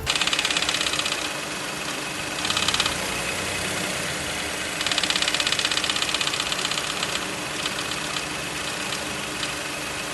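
A VW Polo 1.0 MPI idles steadily with a worn fifth-gear fork, and a metallic buzzing rattle comes and goes in bursts over the engine's constant hum.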